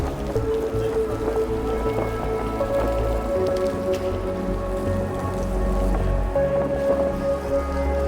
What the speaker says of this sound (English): Water dripping off the line.